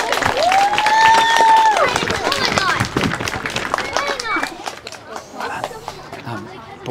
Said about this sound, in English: Big round of applause for our graduating Grade 6s.